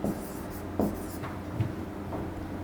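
Marker or chalk writing on a board in a classroom lesson, soft scratchy strokes in a few short bursts with brief taps between them, close and fairly quiet.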